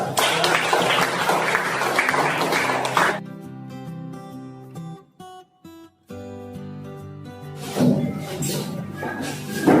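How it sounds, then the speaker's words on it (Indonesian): Applause fills a classroom: dense, lively clapping for about three seconds, then a stretch of soft music, and a second burst of clapping rising near the end. "Kasih aplaus."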